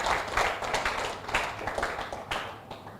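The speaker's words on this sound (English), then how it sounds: "A big round of applause." A brief burst of clapping from a group at a forensic summer school, uneven and moderately loud, tapering off after a few seconds.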